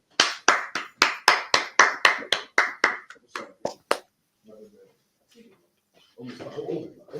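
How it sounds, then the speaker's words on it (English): An audience at a class claps in a quick, even rhythm of about a dozen loud, close hand claps that fade out, followed by quieter talking. "Clap it up."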